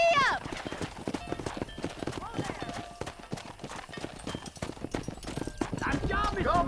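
Horse hooves clip-clop in a quick trot in Red Dead Redemption, a steady rhythmic beat close by, with a voice calling out and short bursts of speech and a whinny over the hoofbeats.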